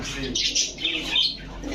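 Old-breed Bagha pigeons at a market coo and chirp in a brief close burst of overlapping calls.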